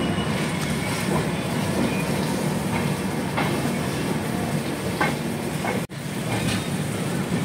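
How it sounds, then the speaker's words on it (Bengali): The Brahmaputra Mail, pulling out of Rangiya Junction in Assam, rumbles along steadily with a dense, continuous roar of wheels and carriages and faint rhythmic clacks, briefly dipping before carrying on. "দশ মিনিটের হল্টের শেষে ট্রেন রঙ্গিয়া জংশন থেকে 4:03 ছেড়ে তার পরবর্তী গন্তব্য নলবাড়ির উদ্দেশ্যে রওনা হলো।"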